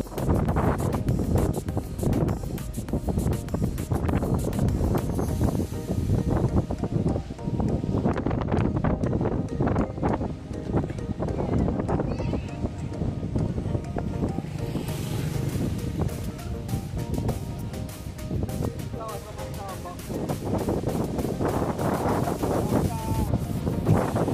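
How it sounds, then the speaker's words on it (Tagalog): Strong wind buffets the microphone at a small port on Balabac island, Palawan, a loud continuous roar with gusty surges, water and boat sounds underneath and a voice speaking faintly at times. "Grabe ang hangin dito guys."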